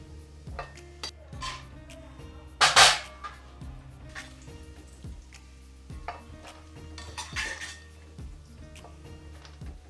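Cashews and almonds stirred in a metal pan with ghee while making adadiya, a spoon scraping and knocking against the pan in a steady rhythm, with one louder clatter, close and clear and with no talking.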